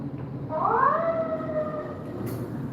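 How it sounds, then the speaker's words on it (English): A fire truck siren rises and holds in one long wail at a moderate distance, heard over steady road and traffic rumble. "And here comes the fire truck."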